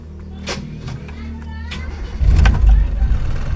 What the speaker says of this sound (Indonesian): kita coba nyalakan mobil.